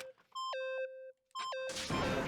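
Clear electronic tones chirp in short stepped sequences in the video game Danganronpa, two bursts of beeps separated by a brief silence, followed by a rush of noisy static.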